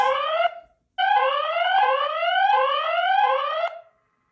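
A Hiseeu 2K PTZ outdoor security camera's motion alarm siren blares in repeated rising sweeps, cuts out briefly, then resumes loudly before stopping.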